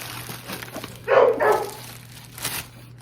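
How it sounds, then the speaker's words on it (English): A dog barks outdoors in two short, close bursts, followed by a fainter yelp a moment later, over a steady low hum. "I have my dog pretty excited outside"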